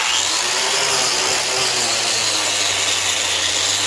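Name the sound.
grinder on welded cast iron and steel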